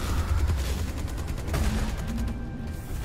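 Rapid repeated gunfire in Star Citizen, a run of evenly spaced shots that rattles through most of the moment, with a sharper crack near the middle, over a low rumbling background, no speech.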